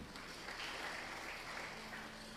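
A church congregation at a GBI service in Lubuk Pakam claps together, a soft, fairly distant wash of applause that holds steady for a couple of seconds.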